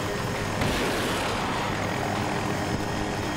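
A helicopter in the video game Battlefield 2042 sends out a steady, dense rotor and engine roar, loud and close, holding without a break for several seconds.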